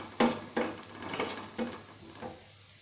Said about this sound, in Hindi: इन तमाम चीज़ों को हल्का सा मिक्स करेंगे